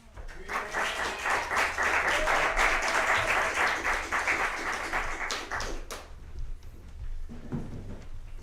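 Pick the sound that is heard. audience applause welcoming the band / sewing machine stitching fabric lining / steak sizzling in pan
audience applause welcoming the band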